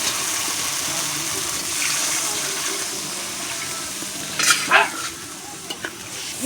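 Water hits cooked spice masala in a hot pan for a Bengali katla kalia curry, giving a sustained hiss and sizzle followed by a couple of brief splashy stirring bursts near the end, close by.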